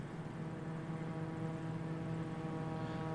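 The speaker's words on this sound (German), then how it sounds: "Da startet auch gerade das Flugzeug." Propeller aircraft taking off on an icy runway in a flight simulator game, a steady droning engine hum with a low tonal buzz, continuous and moderately loud throughout, no talking.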